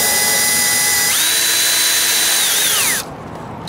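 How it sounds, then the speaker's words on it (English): A corded power drill whines at high pitch, rising in tone as it bites into metal during a steering wheel install, then cuts off abruptly near the end as the drill bit breaks. "Oh, there goes that drill bit."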